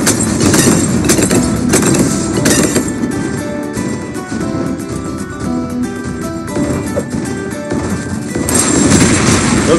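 Rapid, continuous machine gun tower fire in the Bloons TD 6 video game, a loud dense rattle running steadily for the whole stretch over busy game sounds.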